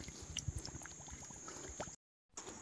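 A plastic bottle is pushed under the water at Torna Fort in Pune and fills with a run of faint, close gurgling bubbles, then a brief silence before the water resumes.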